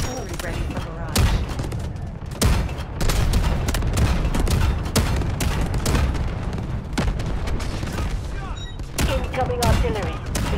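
Artillery barrage in the Delta Force video game, a dense run of heavy booms and sharp blasts in rapid succession, loud and close, with game voices speaking between the impacts.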